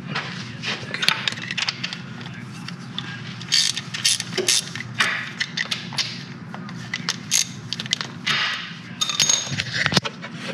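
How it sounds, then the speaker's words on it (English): A ratchet with a long 10 mm socket turns a bolt on a Mitsubishi Eclipse engine during a crank sensor swap, giving rapid, repeated clicking bursts with clanks and thumps of tools throughout. "to get to that, we just need to use a 10 millimeter socket"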